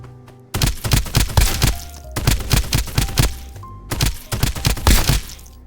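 Shotgun blasts from Escape from Duckov, a rapid run of loud, sharp reports fired in three bursts of several shots each, with brief pauses between volleys and game sounds underneath.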